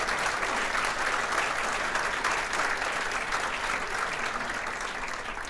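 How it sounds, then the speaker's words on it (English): An audience at a regional chamber event gives a round of applause, a steady, even roar of many hands clapping at moderate distance with no break for the whole stretch. "So give Donna Duperon a big round of applause."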